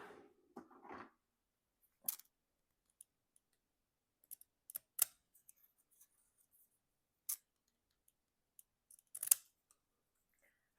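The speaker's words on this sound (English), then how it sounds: "I've got my little postage kind of stamp scissors that cut those little ziggity lines on there." Postage-stamp edge scissors snipping paper, a handful of sharp, isolated cutting clicks and crunches spaced across a quiet room, close and distinct, with a little handling rustle at the start.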